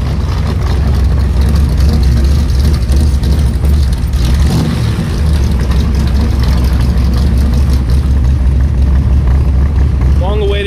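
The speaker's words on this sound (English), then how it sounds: "first test drive out in the 67 Cobra Kick car" A powerful 1967 Cobra sports car engine rumbles steadily at close range, deep and throaty, with people talking over it.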